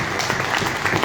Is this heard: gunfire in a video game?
no